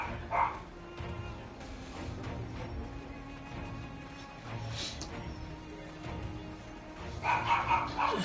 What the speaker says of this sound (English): There's doggies.